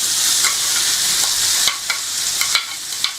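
Onion and carrot fry together in a pan with a loud, close, continuous sizzle, broken by sharp clicks and scrapes from stirring.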